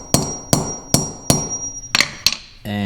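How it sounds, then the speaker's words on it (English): A hammer strikes a metal truck antenna part six times at a steady pace, each tap ringing briefly, followed by a short clatter at the end. "I just gave it a few taps with a hammer"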